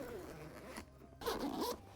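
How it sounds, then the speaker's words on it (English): Zipper on a Nelson Rigg dual sport motorcycle saddlebag being undone, a short rasp, a brief pause, then a longer louder pull close up, with no talk. "I can actually undo this zipper and it goes all the way around the bag."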